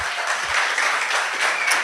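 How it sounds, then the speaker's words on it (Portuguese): A church congregation applauds during a sermon series, a brief burst of steady, dense clapping from many hands at moderate loudness. "Se é para aplaudir a Jesus"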